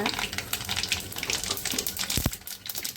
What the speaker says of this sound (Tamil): சூடாயிடுச்சு ஃப்ரெண்ட்ஸ் கடுகு போட்டுக்கோங்க